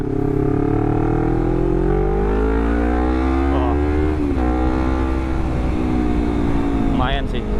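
Honda CBR250RR motorcycle fitted with a WRX GP3 exhaust, engine revving steadily with rising and falling pitch throughout, loud and close, with a couple of sharper blips near the end.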